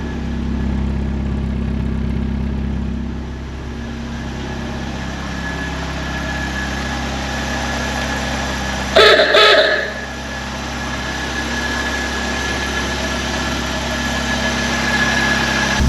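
An old vehicle engine idles steadily after a cold start, a deep, even rumble close by with a brief clatter and knock near the middle before settling back into the same drone.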